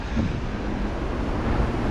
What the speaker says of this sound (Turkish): Bugün sizler için çok güzel bir şelaleye geldik arkadaşlar.